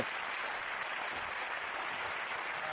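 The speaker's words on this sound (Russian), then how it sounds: "Аплодисменты!" A studio audience at a British quiz-show taping applauds: a faint, even hiss of many hands clapping, steady and distant, with no voices on top.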